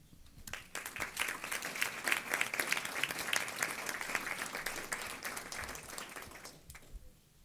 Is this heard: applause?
yes